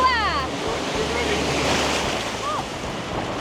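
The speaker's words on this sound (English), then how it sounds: "The waves are quite big actually." Rushing surf and breaking waves at a beach in Nakhon Si Thammarat, Thailand, under gusty wind buffeting the microphone, loud and close, with a brief whistling sweep near the start.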